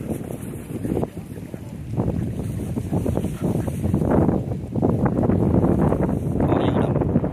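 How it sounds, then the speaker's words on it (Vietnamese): Strong wind gusts across a shrimp farm, buffeting loudly and continuously, with people talking underneath the roaring wind. "Gió quá trời gió luôn mà bỏ như quạt"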